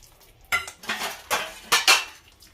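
Brass vessels being scrubbed clean with tamarind clank and scrape in several distinct bursts of close metallic clatter, separated by brief quiet pauses.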